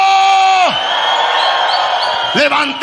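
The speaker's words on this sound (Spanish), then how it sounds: "Un grito de júbilo." A church congregation shouts and cheers for joy during a Sunday service, a loud crowd roar with whoops that fills the whole clip, with a sustained sung or yelled tone rising and dropping at start and end.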